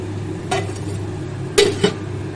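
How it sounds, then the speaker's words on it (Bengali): A metal lid goes onto a pan of greens cooking on the stove, two sharp clinks close together over a steady low sizzle, with no one talking. "এবার একটা ঢাকনা দিয়ে ঢেকে আমি রান্না হতে দেবো।"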